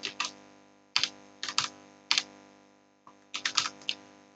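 Keys clatter on a computer keyboard as a motor car's vehicle number is entered, in short quick bursts separated by brief pauses, close and fairly loud with no talking.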